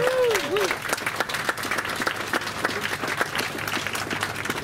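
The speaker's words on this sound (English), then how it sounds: "Give them a clap." A crowd at the James Craig tall ship's 150th birthday event applauds the restoration team, steady outdoor clapping from many hands lasting throughout, with a brief whistle-like tone at the start.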